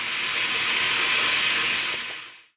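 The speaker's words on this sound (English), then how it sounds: "now we are going to steam it in a pressure cooker for 15 minutes on high flame" A pressure cooker on high flame without its whistle lets off a loud, steady hiss of steam, broad and close, that holds for about two seconds and then cuts off abruptly.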